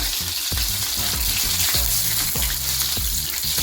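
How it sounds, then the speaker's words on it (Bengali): Chopped green chilies and minced garlic crackle loudly in hot oil, a constant dense sizzle with a few louder spits and pops close by, for an egg bhurji street-food dish. No voices are heard. "এবার এই তেলের মধ্যে আমি সবার আগে কাঁচা লঙ্কা কেটে রাখা দিয়ে দেবো।"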